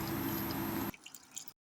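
Water gushes directly from a hose pipe into a washing machine after its inlet filter was cleaned, a steady hissing flow that cuts off abruptly partway, leaving a few faint drips and gurgles.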